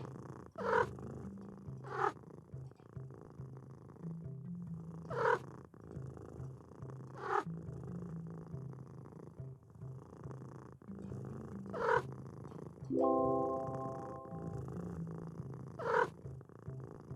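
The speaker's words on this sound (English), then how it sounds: "Cat." Cat being petted on the head in A Little to the Left video game purring in a steady low rumble, with soft periodic bursts and a short tonal chime partway through, no talk.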